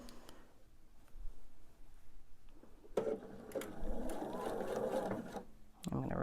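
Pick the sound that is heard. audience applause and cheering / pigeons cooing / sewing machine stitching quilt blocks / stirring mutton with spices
sewing machine stitching quilt blocks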